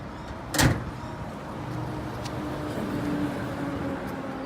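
A Toyota RAV4 bonnet is pushed down and shuts with one sharp thud, followed by quiet ambient hum.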